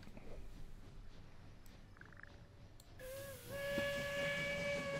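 A train in the video game What the Golf rumbles along, then a steady whistle-like horn tone rises and holds over the rolling rail noise, with no talking.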